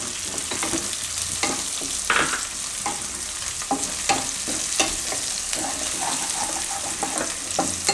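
Whole green chillies and green garlic sautéed in hot oil for a methi and brinjal dish, a dense constant sizzle with repeated spatula scrapes and taps, close and fairly loud, no voices.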